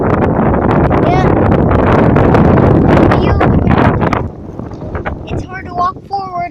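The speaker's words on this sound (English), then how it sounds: "Hear that? That's all wind. All that wind right now." Strong outdoor wind buffets the microphone in a loud continuous rumbling roar for about four seconds, then drops into gustier bursts while a person talks.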